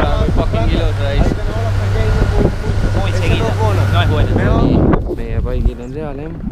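Boat moving across the ocean off Tenerife, with engine rumble and wind buffeting the microphone throughout, while people talk over it.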